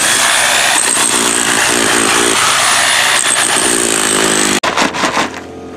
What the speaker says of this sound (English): Is this a homemade dry washer, Bernie?